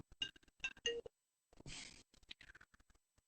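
Dialing tones from an iPad phone, a quick string of short electronic beeps in two bursts separated by a brief hiss, faint and choppy.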